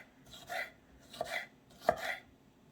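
Knife chopping red bell pepper into small cubes on a board, three separate bursts of close, crisp cutting strokes with short pauses between, no voices.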